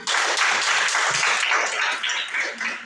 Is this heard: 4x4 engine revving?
no